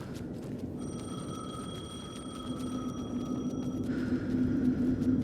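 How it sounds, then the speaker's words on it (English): A payphone rings in Alan Wake 2, a steady electronic tone repeating over a low, rumbling ambient drone that gradually swells, with no one speaking. "The payphone was ringing."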